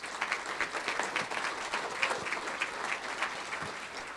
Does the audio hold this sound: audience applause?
yes